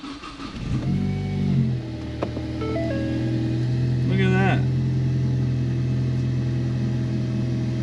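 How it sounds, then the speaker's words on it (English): A car engine cranks, catches and settles into a steady idle hum nearby, with a brief rev partway through and a voice speaking briefly at the start. "let's turn the car on."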